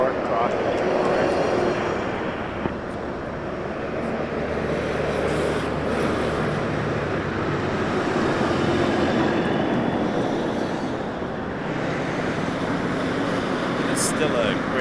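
Airplane at Toronto Pearson Airport, a long steady jet engine roar with a broad rumble that swells and fades slightly over several seconds, continuous and fairly loud.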